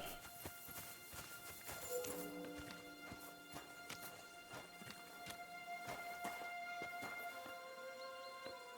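Horse hooves clip-clop in the medieval video game Kingdom Come: Deliverance 2, a steady walking rhythm of repeated sharp knocks over tonal in-game ambience.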